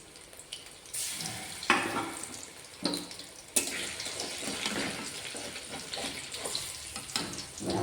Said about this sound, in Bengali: মুচমুচে করে ভেজে নেবো এইভাবে